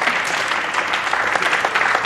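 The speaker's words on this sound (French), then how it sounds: "Bravo, on l'applaudit." A French television game-show studio audience applauds a contestant for finding the right score, a loud, dense burst of clapping heard alone throughout.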